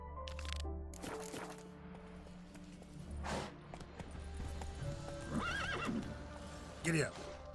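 Horse whinnying in The Witcher 3: Wild Hunt, several loud neighs and snorts over clip-clopping hooves and game music, with a player's voice talking briefly near the start.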